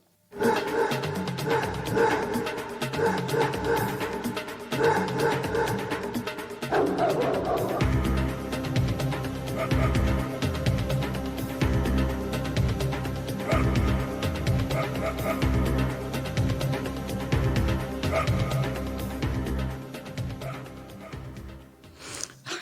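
Dogs bark through the intro of a song, sharp barks popping over a driving synth-pop beat and bass that runs throughout.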